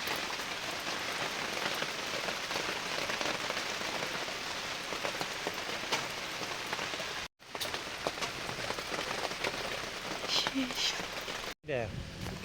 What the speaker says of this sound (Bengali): পুরো বৃষ্টি আসছে, প্রচণ্ড বৃষ্টি।